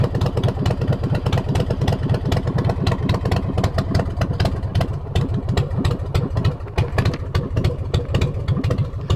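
A motorcycle engine idles close by, its rapid, uneven putter of firing pulses loud and steady throughout.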